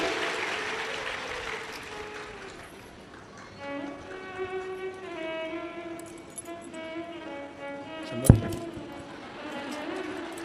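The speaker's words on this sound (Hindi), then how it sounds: "एक बार जोरदार ताली बजा" An audience at a live Shiv Mahapuran religious discourse claps briefly and softly at the start. The clapping fades under sustained chanted or musical tones, and a single bright metallic clink rings out near the end.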